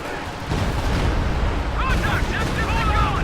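Stuka dive bomber attack in a World War II strategy game: a sustained roar of heavy explosions and rumbling blasts, loud and dense, with whistling tones rising and falling over the barrage toward the end.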